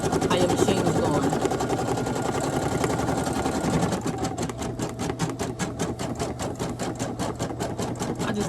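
A Brother PE800 embroidery machine stitches a hat, a close, continuous fast mechanical rattle with a low motor hum that shifts into a clearly pulsing stitch rhythm partway through.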